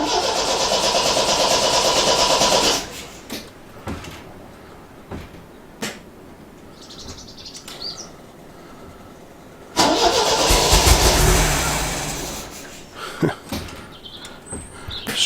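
A classic MGB cranks and catches on squirted-in fuel. A loud, close engine burst runs for a few seconds and dies, followed by quieter clicks and knocks. The engine then fires again into a rough, uneven run.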